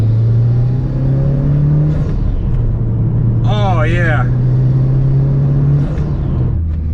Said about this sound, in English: this thing revs and revs and revs